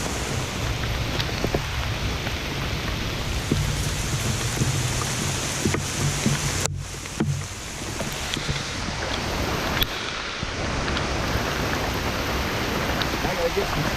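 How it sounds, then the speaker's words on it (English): Heavy rain pours down steadily in a constant loud wash during tent camping in Ohio, with a few brief dips and knocks partway through. "The amount of rain that's coming down is unbelievable."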